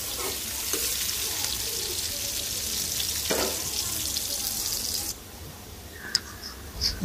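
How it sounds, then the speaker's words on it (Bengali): Onion and two dried chilies fry in oil in a kadai wok, giving a steady close crackling sizzle with a few stirring scrapes and clicks. "তো পেঁয়াজ দিলাম কড়াইয়ে, তেল দিয়েছি আর শুকনো মরিচ দিচ্ছি 2টা।"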